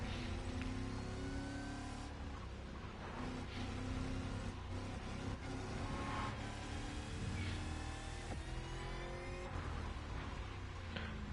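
Dodge Hellcat Charger hybrid in The Crew Motorfest racing game, its engine roaring and revving steadily throughout, loud and close, with tire skids mixed in and no talking.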